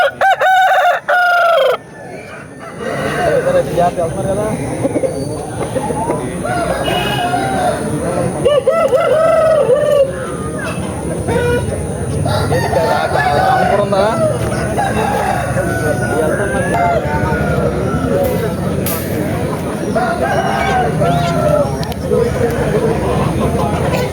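Chickens and roosters at a Saturday country chicken market, loud repeated crowing and clucking over a busy crowd, with people haggling and talking throughout.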